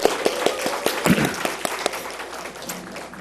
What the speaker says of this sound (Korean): 하나님께 영광의 박수를 한 번 더 드리겠습니다